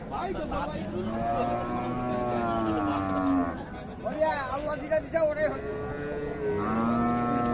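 A large four-tooth Sahiwal cow with her calf at the Raniganj cattle market in Dinajpur lets out repeated deep moos, some long and bellowing, over constant market chatter and nearby voices.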